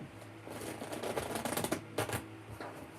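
A deck of tarot cards is shuffled by hand, producing a rapid flurry of crisp riffling clicks and flutters that rise and fall in short bursts. The shuffling is close and fairly soft.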